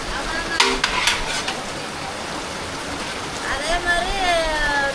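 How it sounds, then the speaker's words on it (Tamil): Heavy rain pours down during outdoor food packing of meal parcels at Annamalaiyar temple, a steady broadband hiss filling the background while a voice speaks briefly over it. "பாருங்க, மழை கடுமையான மழை."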